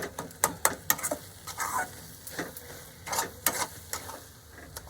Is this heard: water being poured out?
no